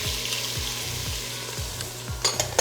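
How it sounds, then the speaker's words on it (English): Diced celery, carrots and onion sizzle steadily in pancetta drippings in a pan, a close crackling fry with repeated scraping stirs and a few louder spatters near the end. "we're gonna stir the vegetables for about 5 minutes, and we're just gonna cook them until the onions become translucent"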